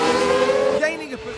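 An F1 race car in a racing game screeches briefly as its tyres lock up under braking, a short high squeal over engine roar lasting about a second, with commentary voices nearby.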